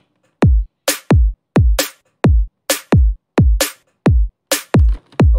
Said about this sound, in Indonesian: Kick dan snare-nya bunyinya seperti ini